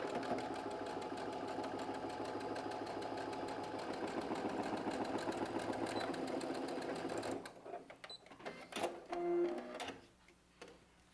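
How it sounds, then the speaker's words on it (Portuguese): Sewing machine runs in a steady, fast rhythmic hum while stitching the pocket of a fabric tote bag, then stops and gives way to a few handling clicks and rustles near the end. "agora a gente vai costurar aqui"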